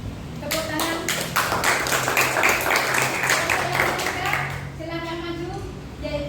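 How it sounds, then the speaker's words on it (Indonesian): Classroom applause after a student group presentation in a Christian religion class, with scattered sharp claps mixed with children's voices and chatter, then someone speaking as the clapping fades. "Tepuk tangan."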